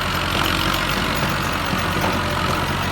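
Kubota MU5501 tractor engine running steadily while planting sugarcane in a field, a continuous loud mid-to-low rumble with no pauses and no talk.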